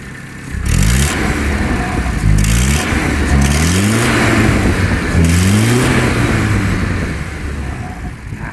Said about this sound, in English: the engine is angry